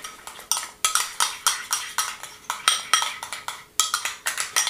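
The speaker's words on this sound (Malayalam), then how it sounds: "നമുക്ക് നന്നായിട്ടൊന്ന് മിക്സ് ചെയ്ത് കൊടുക്കാം" Hair spa cream from L'Oréal being mixed in a bowl, with repeated close scraping and clinking strokes against the bowl in a steady rhythm.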